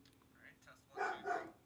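A dog barks in the background in a home setting, two strong barks in quick succession after some softer, fainter sounds, with no clear talking.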